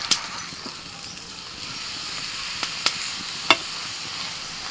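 Doi paratha fries in a pan over a clay stove, a continuous quiet sizzle broken by a few sharp clicks and taps from the utensils.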